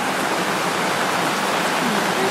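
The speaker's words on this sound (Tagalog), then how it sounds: "Sobrang lakas ng ulan." Dense, steady downpour of heavy typhoon rain in the countryside, a constant broadband hiss with no pauses, loud and close throughout.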